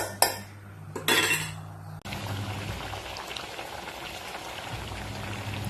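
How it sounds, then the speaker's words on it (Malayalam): Coconut-based fish curry masala boils in a pot, a steady close bubbling hiss that follows a couple of seconds of metallic clinks and pot handling at the start; no voices. "ഇനി ഇതൊന്ന് നന്നായി തിളച്ച് വരട്ടെ"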